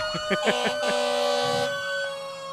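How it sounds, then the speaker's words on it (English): Fire and EMS vehicle sirens sound steadily in the distance at a Christmas parade in Floyd, a sustained wailing tone with a few brief, faint noises near the start. "they got the sirens in full-on mode today"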